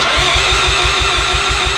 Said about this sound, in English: I think it's gonna start like right off the rip